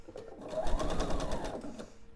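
A sewing machine runs steadily, piecing fabric half hexagons for a quilted table topper, its close, continuous motor whir and needle chatter lasting about two seconds with no speech.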